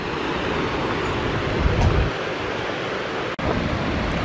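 A steady broadband rush of falling water comes from a waterfall on a trail off Route 66 near Joplin, Missouri, with a brief gust of wind buffeting the microphone partway through.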